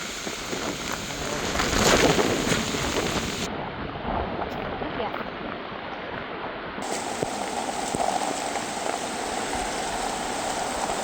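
Heavy rain and wind from Typhoon Pepito pour down in a dense, continuous wash of noise, swelling and easing over the span, close and loud with no voices.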